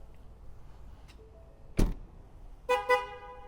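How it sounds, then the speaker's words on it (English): Hood of a 2022 Ford Bronco Wildtrak popped open with a sharp mechanical clunk, followed about a second later by two short metallic latch clicks and a ringing tone, in quiet surroundings with no talk. "So pop the hood, come right here."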